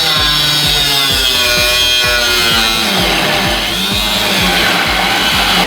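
A power tool chops off a piece of metal while a fuel system goes into an LS-swapped Jaguar, giving a steady, loud cutting drone with a rapid pulsing beat that runs unbroken for the whole stretch.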